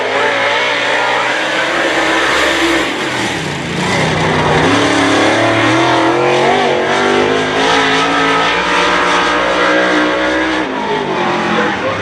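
Loud late model race car engines roar and rev continuously on a short track at night, with pitch rising and falling as cars accelerate and pass close by.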